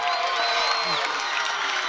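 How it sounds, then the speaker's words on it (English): Parents, teachers, alumni and fans in the stands at a Salinas High School football game against Palma High cheer and yell without letup, a steady roar of crowd noise through the whole moment. "Parents, teachers, alumni's, and I mean everyone else here in the stands cheering for Salinas High are going crazy"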